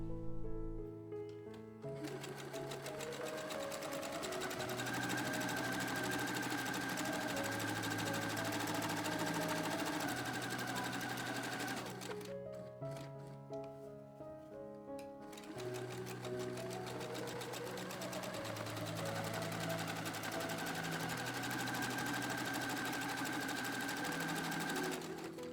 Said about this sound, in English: So I'm going to a sewing machine and overcast these edges.